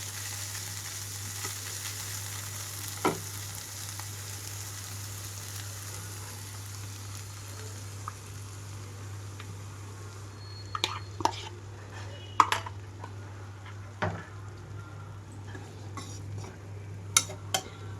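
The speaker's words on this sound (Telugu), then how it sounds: "ఎగ్ మొత్తం కూడా ఇందులో వేసేస్తున్నాను." Beaten eggs for egg bhurji fry in a pan with a soft, constant sizzle over a low steady hum. Scattered scrapes and taps of stirring arrive later.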